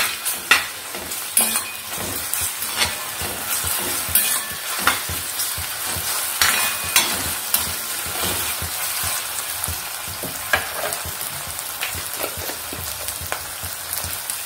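Ginger garlic paste frying with onions in a pan, a steady close sizzle with frequent stirring scrapes and clinks throughout, no talk.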